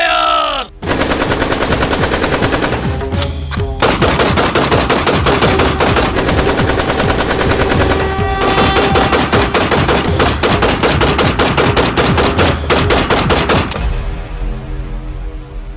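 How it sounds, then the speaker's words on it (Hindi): Rapid, loud gunfire effects ring out nonstop for over ten seconds during a live India-versus-Pakistan stage show at Songadh fort, a dense machine-gun-like rattle after a shouted command. "फायर!"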